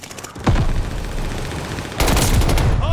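Bursts of BP50 submachine gun fire in the Call of Duty: Vanguard video game during a Hardpoint match, sharp rapid automatic volleys, a short burst then a louder sustained spray near the end, with no talking.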